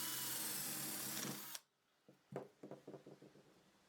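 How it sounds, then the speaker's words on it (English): A power drill whines loudly for about a second and a half while drilling a metal table leg bracket, stops abruptly, then a series of sharp knocks and clunks follows. "I'll drill the second hole in the same way."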